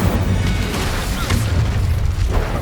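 A fiery Incendio spell blast in the Hogwarts Legacy video game bursts out as a loud, dense roar of boom and crackle that holds steady for a couple of seconds.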